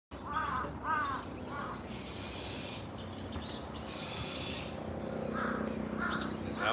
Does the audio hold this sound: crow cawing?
yes